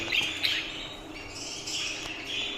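Jumbo show budgerigars in a breeding room give faint, scattered chirps and tweets over a steady hiss of background noise.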